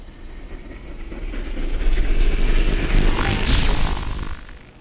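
A designed electricity-throw game sound effect builds as a rising, crackling whoosh with a bright sizzling burst near the end before fading out.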